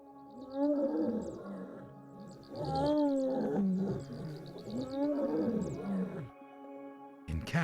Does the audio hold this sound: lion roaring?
yes